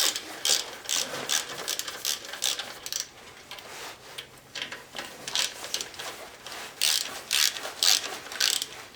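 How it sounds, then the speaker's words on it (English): A 3/8 socket ratchet clicks in quick bursts while loosening bolts on a Briggs and Stratton lawn mower engine during a top-end rebuild, the pawl ticking close and loud in repeated runs with short pauses between. "These 4 bolts are also going to be done with the 3/8 socket."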